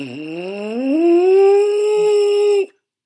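A buzzing, brassy lip buzz through a mouthpiece slides upward from a low pitch to a higher one, then holds steady and stops abruptly, heard alone.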